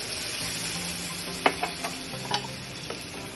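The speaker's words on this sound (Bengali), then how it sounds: "জল দিয়ে একটু নাড়িয়ে দিই।" Fried chicken pieces in a pan with a cup of water just added get stirred, a soft steady sizzle and hiss under a few sharp spoon scrapes and taps, close and fairly quiet.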